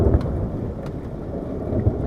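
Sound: heavy rain and hailstorm

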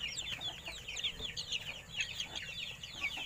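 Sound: chicken clucking

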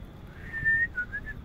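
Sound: person whistling to call the wind for a kite

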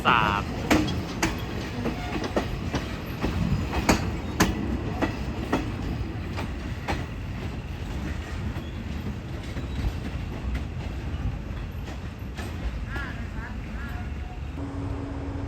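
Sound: train wheels clacking on rails

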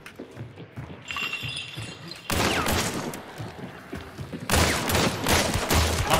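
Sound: gunfire in Hunt: Showdown video game

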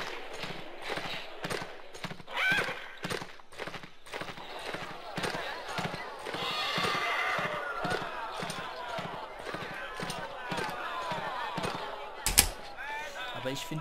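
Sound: horse hooves while riding, from a video game

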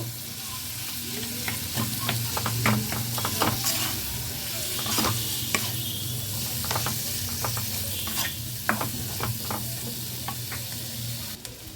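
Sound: mixing boiled potato with spices in a pan

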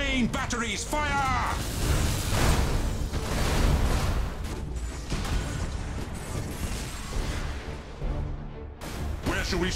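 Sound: warship main batteries firing in Battlefleet Gothic video game

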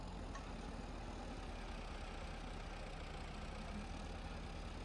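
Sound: tractor engine labouring in Farming Simulator 22 video game

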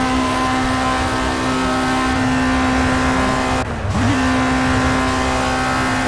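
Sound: race car engine driving in Project CARS video game

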